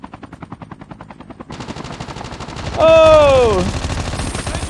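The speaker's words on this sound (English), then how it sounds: "This guy started shooting?" Rapid automatic gunfire from Call of Duty Mobile rattles steadily throughout, loud and close. A player briefly exclaims midway.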